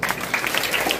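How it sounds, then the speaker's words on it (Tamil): Audience applause at a Tamil Women's Day debate event (pattimandram) honouring someone speaker: dense, steady clapping from a crowd that fills the whole moment at a fairly loud, even level. "நீங்கள் மனதார கரகோஷம் கொடுக்கணுங்க"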